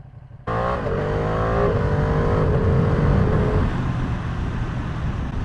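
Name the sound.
Ducati motorcycle riding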